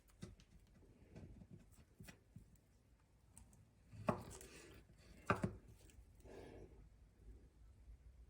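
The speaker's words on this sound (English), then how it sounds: "first I'm going to slice it straight down the middle, and then I'm going to split each side in half" Knife slicing a plantain lengthwise on a board during preparation of Jamaican sweet fried plantains, a few soft cuts with two sharper clicks or knocks, close and fairly quiet with no talking.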